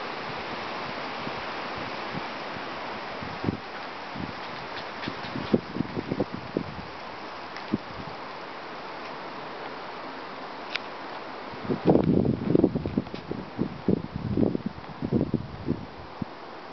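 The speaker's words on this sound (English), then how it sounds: "here comes a big gust." Strong wind gust from Hurricane Sandy, a broad continuous roar that swells and turns gustier with buffeting bursts toward the end, no speech.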